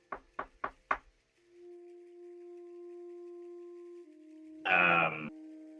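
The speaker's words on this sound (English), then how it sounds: "You hear a knock on the door." Four quick, evenly spaced knocks on a wooden door sound up close, followed by a low sustained hum and then a brief loud burst of noise.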